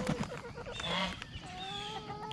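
Chickens cluck and squawk in short, quick bursts nearby, a few scattered calls over faint background noise.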